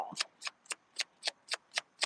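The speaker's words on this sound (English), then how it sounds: "I'm hearing myself shuffle." Tarot cards being shuffled by hand at a night reading in a cemetery, eight quick riffling bursts in a steady rhythm, close and fairly quiet, with no talking.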